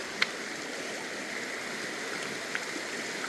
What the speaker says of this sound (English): First time ever running the sluice.